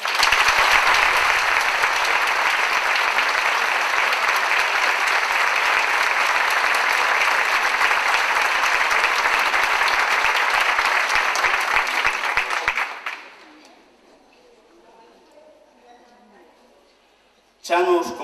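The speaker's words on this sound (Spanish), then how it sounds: "pero pídoche outro aplauso" An audience at a traditional music gathering in Conceyu L.lena claps loudly and steadily for about thirteen seconds, then the applause stops abruptly, leaving faint room noise and then a short burst at the very end.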